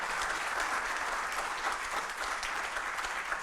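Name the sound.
audience applause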